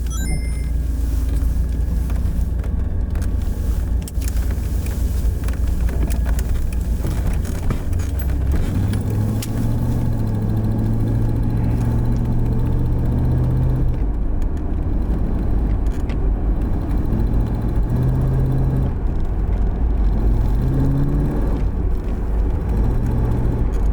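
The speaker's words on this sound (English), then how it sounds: "The car makes a ticking noise on acceleration." A 1989 Pontiac Trans Am engine runs steadily with a low rumble that shifts in pitch as it accelerates, with a light rhythmic ticking layered over the drone.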